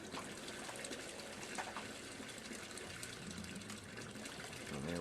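A pump pushes water through a kinked hose into a tank being filled toward the 25-gallon mark, giving a steady, close gushing and splashing stream with low pressure that runs unbroken throughout.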